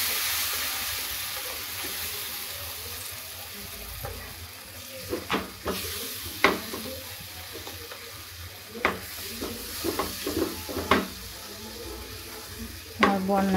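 Palm fruit pulp fries in a pan with a steady hiss, broken by a series of sharp scraping stirs that come in short clusters.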